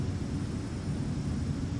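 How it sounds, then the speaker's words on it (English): Pratt & Whitney turboprops on a Dash 8 Q400 in the X-Plane 11 flight simulator give a steady, dense engine roar, loud and continuous, with no talking over it. "And the sounds are also lovely of these Pratt & Whitney turboprops."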